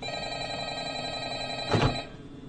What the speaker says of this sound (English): Another phone?